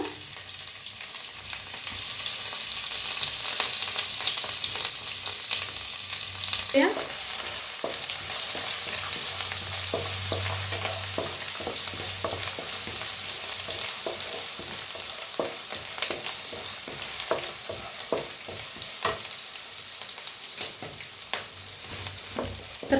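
Curry leaves, green chili, asafoetida and garlic roast in hot oil, a continuous crackling sizzle punctuated by frequent stirring scrapes, with no talking.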